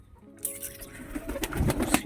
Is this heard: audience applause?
no